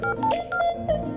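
Someone dials a telephone number, producing a quick run of short keypad tones. Several distinct beeps follow one another in uneven succession, fairly close and fairly quiet, with no speech.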